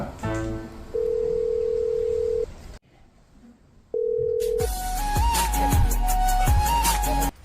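A telephone dial tone sounds twice with a short gap between, then gives way to a loud, dense burst of comedic music with a drum beat, heard on a phone call in a Marathi comedy sketch.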